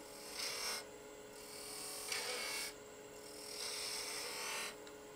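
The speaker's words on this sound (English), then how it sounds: "I'm going to start with a skew and make a V-cut" A skew chisel cuts a V into wood spinning on a lathe, giving a close, steady rasping shave in three or four strokes with short pauses between them.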